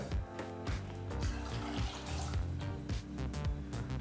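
Water is poured steadily into a cooking pot, two cups measured for cooking rice, with a continuous splashing, running-tap-like rush lasting several seconds without speech.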